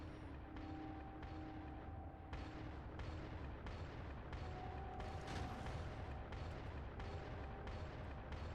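Turrets in the Factorio game with the Krastorio 2 mod fire at enemies in a faint, continuous barrage of booming shots, with brief tonal effects that come and go.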